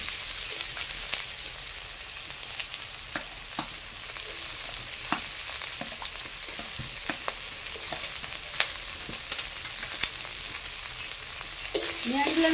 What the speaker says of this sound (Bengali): পেঁয়াজগুলো আমি লাল লাল করে ভেজে নেব।